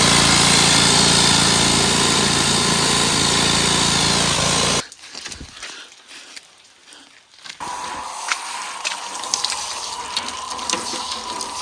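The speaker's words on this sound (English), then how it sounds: "I'm also thinking I might wash the tractor because it's a poopy mess" Steady rushing spray of water, like a pressure washer, washing cow manure off an IH tractor runs loud for several seconds, cuts out briefly, then resumes with intermittent splashing.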